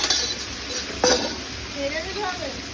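Long-cut potato French fries deep fry in oil on a rainy day, a steady sizzle broken by a sharp utensil clink and stirring, with brief voices in the background.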